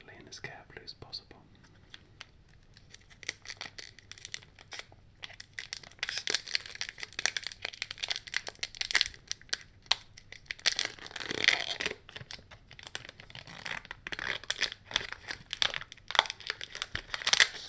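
A Magic: The Gathering Fate Reforged booster pack is torn open by hand, with soft crinkling and sharper tearing bursts of foil wrapper close up, quiet at first and growing busier, under occasional whispering.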